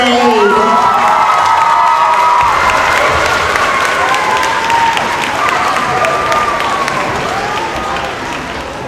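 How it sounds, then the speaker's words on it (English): Loud applause and cheering fill a school hall at an elementary school Renaissance award ceremony for third graders, a dense crowd of clapping hands and children's shouts that holds steady for several seconds before easing slightly. "One more big round of applause for third grade."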